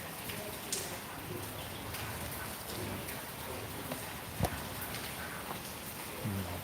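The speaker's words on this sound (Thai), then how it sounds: "ฝนเริ่มเบา" Light rain falls outdoors, a soft even patter with a few sharper drops and faint scattered knocks, fairly quiet throughout.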